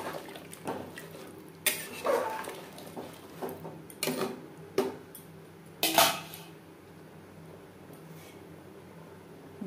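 Spice-rinse water poured into a pot of mutton curry with potatoes, with a few clinks of metal utensil against the pot, then a quiet steady hiss, faint and with no talking.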